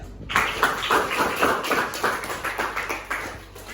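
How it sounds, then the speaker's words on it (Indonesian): Classroom audience applauding after a group presentation, a steady run of hand claps lasting a few seconds after a brief pause, fairly close and even. "Silakan beri aplaus"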